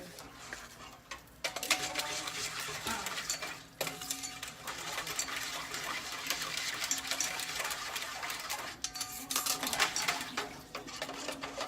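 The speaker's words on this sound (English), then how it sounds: "I'm going to whisk this a little bit because I want it to thicken" A whisk works through a thickening sauce with sesame seeds in a pan, a fast, steady ticking rattle of wire against metal lasting throughout, close and moderately loud with brief pauses.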